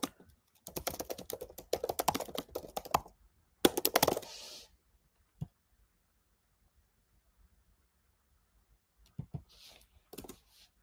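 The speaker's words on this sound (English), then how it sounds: "So I'm gonna go here and type in" Rapid bursts of typing on a computer keyboard, close and crisp, a long run of keystrokes then a short flurry, a pause with a single tap, and a last few clicks.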